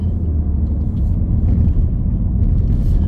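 A car accelerating while overtaking during a driving lesson, heard from inside as a steady, loud low engine rumble that holds even throughout.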